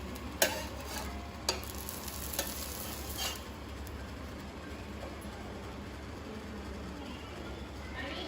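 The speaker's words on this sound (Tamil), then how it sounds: "ரெண்டு பக்கம் வேக வைக்கணும் நெய்யில்" Sweet paruppu opputtu cooks in ghee on a pan with a soft, steady sizzle. A few sharp clinks and scrapes of a spatula come near the start as it is turned, then the frying carries on quietly.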